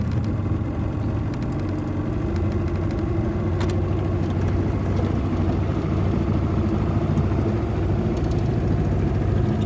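The engine of a 1987 Blue Fin boat runs on a lake as a loud, steady, close motor drone that holds for the whole stretch, with no voices.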